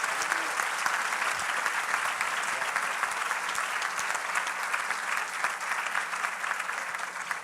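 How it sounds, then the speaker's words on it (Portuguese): A church congregation applauds, a dense, sustained wash of many hands clapping that fills the space evenly throughout with no pauses. "Por que a gente não aplaude ao Senhor por isso?"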